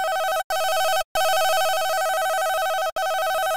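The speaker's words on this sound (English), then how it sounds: "Let's change the distortion to bit depth, or bit reduction rather. As you can hear, it's introduced a little bit of noise and aliasing" A Retrologue synth patch with bit-reduction distortion holds a bright, buzzy, steady tone full of noise and aliasing. It is loud and close, cut by a few brief silent gaps and heard without any voice.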